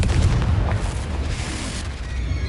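A Confringo spell explodes in Hogwarts Legacy: a loud, close, deep boom that rolls on as a sustained rumbling blast for a couple of seconds, heard alone.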